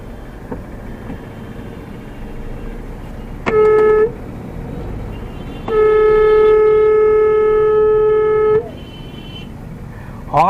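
A car horn in slow, congested traffic gives a short honk and then a long, sustained blast of about three seconds. Steady road and engine noise runs underneath, and another honk starts right at the end.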